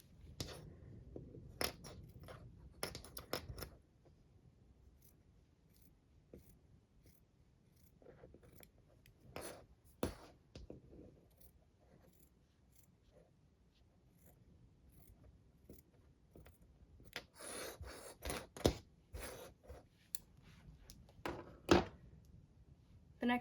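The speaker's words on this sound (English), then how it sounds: "you can trim the seam allowance" Scissors snip through fabric seam allowance on a bralette with red main fabric and floral lining, close and crisp, in clustered bursts of cuts with quiet gaps between, no talking.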